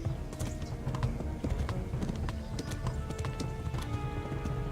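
A horse gallops in the Kingdom Come: Deliverance video game, its rapid, even hoofbeats clip-clopping close and loud in a steady rhythm.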